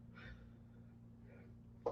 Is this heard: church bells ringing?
no